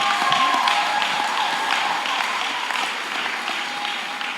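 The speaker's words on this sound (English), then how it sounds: "Please clap, celebrate Isaac." Audience applause celebrating Isaac at a talk on pain, loss and depression: steady, dense clapping from a room of people, sustained evenly throughout and slowly easing toward the end.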